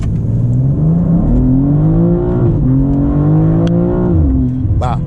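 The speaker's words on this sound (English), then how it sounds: "We'll get a chance to do another acceleration here. Let's go down to a stop and do it." A 2025 BMW M2, rear-wheel drive, accelerating hard from a stop, its engine rising in pitch through the gears with brief dips at each shift, loud and close inside the cabin.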